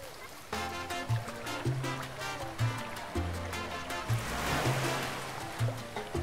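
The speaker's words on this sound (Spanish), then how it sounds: "¿Qué tal si entramos a la piscina de olas?" Water sloshes and rushes in a wave pool, a continuous surging wash that swells toward the middle, heard beneath a repeating musical background.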